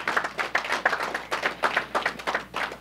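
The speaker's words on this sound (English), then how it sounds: "So let's give them a round of applause." Audience at the AppSecCali 2019 security conference clapping in a sparse, uneven rhythm, individual claps distinct rather than merging into a full ovation, moderately close and without talk.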